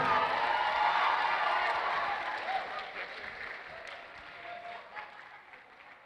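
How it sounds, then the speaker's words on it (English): A comedy contest audience applauds the first, second and third place winners on stage, dense clapping that starts full and gradually thins and fades toward the end. "can we also give one more round of applause for all of our contestants?"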